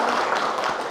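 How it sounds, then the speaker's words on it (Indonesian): A classroom of students clapping together, a dense continuous wash of applause filling the whole moment, loud and close. "Tepuk tangan semuanya"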